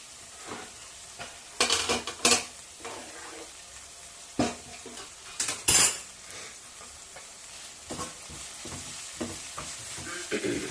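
Dried prawn curry with cucumber stirred and frying in a pan: a steady low sizzle with several louder scraping stirs in bursts, close and alone with no talk.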